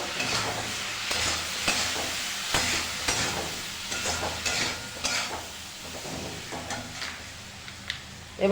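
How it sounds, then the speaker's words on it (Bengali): Egg chilli is stirred in a sizzling pan after soy sauce goes in. Spatula scrapes and clinks repeat unevenly over a soft frying hiss, close and moderately loud, with no talk. "সোয়া সস দেবো এক চামচ ভালো করে নাড়িয়ে নেব"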